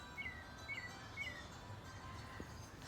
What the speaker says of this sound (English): And the birds are happy here.